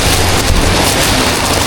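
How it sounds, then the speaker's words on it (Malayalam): Heavy rain pours down during a bus journey from Hanoi to Da Nang, a loud, dense and unbroken roar of falling water with no voices over it. "ഓ നല്ല മഴ കേട്ടോ"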